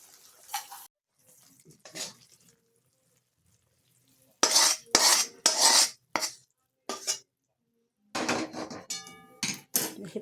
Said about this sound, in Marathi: हे पटापट मस्त चमच्याच्या सहाय्याने मिक्स करा.